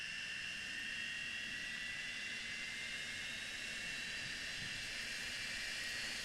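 The aircraft engine in the flight video game Project Flight gives off a steady, loud jet-like whine and hiss that holds unchanged throughout, with no talking.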